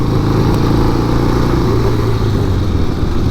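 Harley-Davidson Sportster motorcycle engine while riding, a loud close low rumbling drone with a throbbing pulse, steady throughout with no voices over it.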